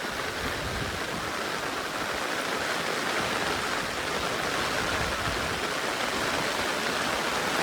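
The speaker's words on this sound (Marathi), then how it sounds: "पाऊस पण खूप आहे." Heavy monsoon rain pours steadily over a Konkan forest, a dense, loud, unbroken roar of falling water with no pauses or voices.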